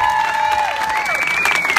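Applause from a Pride award ceremony audience, a brief burst of clapping with cheers, with a sustained whistle-like tone rising and falling through it.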